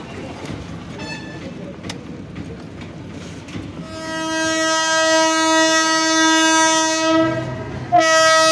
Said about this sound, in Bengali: ট্রেন চলে আসবে, আর কিছুক্ষণের মধ্যে ট্রেন চলে আসবে